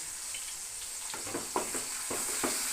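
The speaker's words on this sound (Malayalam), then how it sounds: "ചെറിയ ഉള്ളിയാണ് ഇടാൻ പോകുന്നത്" Small onions (shallots) tossed into hot oil for an Onam sadya dish, giving a steady close sizzle with a few brief crackling bursts and stirring scrapes, no talk.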